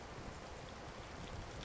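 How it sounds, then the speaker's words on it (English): Steady rain falls in the Baking Simulator video game, a soft, even wash of hiss and patter with no talk over it, quiet and constant throughout. "Why is it raining out?"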